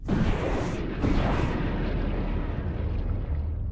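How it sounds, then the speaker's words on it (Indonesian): A missile launch and explosion in an Ultraman Cosmos battle make a loud, sustained roar with a sharp blast near the start and a second surge about a second later, rumbling on steadily to the end. "Sepuluh detik menuju peluncuran misil."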